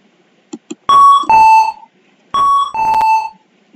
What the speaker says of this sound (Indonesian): Seperti apa suara bel pintunya?